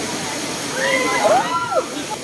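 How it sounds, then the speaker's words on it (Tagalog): Tanawan Falls in Dingalan, Aurora sends out a steady, broad rush of falling water, with a person's voice heard briefly over it. "We're here na sa Tanawan Falls."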